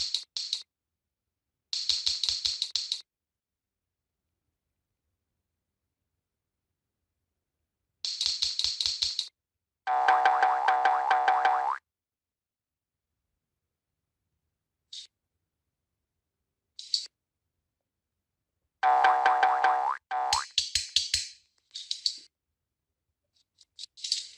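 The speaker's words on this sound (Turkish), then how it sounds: "Bir sürü tuş var ve sesleri var." Fidget-toy buttons being pressed in the mobile game Fidget Toys 3D: bursts of crisp clicks and rattling taps come in short groups separated by silence, with a couple of louder, fuller whirring pushes in between, all close and clear with no talking.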